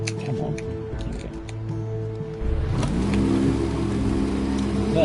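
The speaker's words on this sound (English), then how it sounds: "We need to start the engine." A boat engine cranks and catches about halfway through, then settles into a loud, steady rev. Faint background noise and scattered clicks come before it starts.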